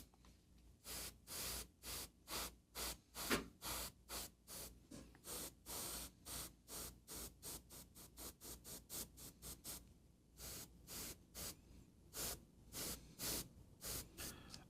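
An airbrush sprays dark paint onto the cape of a Kingdom Death Pariah miniature, giving soft, quiet hissing bursts in a steady, quick rhythm with brief gaps between them and no talking.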